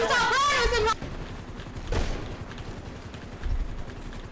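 Gunfire in the video game GTA during a hospital fight, heard as a loud burst of shots with dense, echoing crackle, then fainter scattered reports underneath as the action continues.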